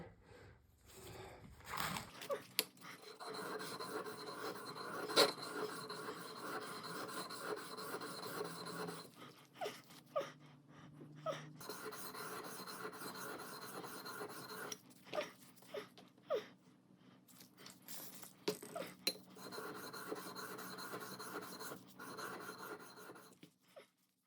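A cheap Harbor Freight chisel is honed on a finer sharpening stone, giving repeated faint rasping strokes in an irregular back-and-forth rhythm with short pauses between passes.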